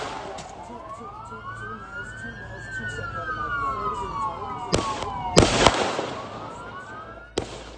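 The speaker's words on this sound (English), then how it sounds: "3 gunshots ring out as an officer fires on the gunman from behind a tree" Police gunshots during a terror attack at Bondi, three sharp cracks cutting through the scene, with a wailing police siren sweeping up and down the whole time and faint voices in the background.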